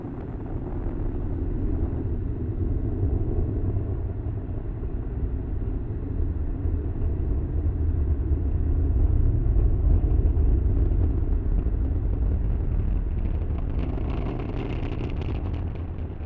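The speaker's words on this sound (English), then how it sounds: "Falcon 9 has successfully lifted off" SpaceX Falcon 9 rocket lifting off, its engines giving a deep, continuous rumble that swells slightly midway and stays steady and heavy, with no voices over it.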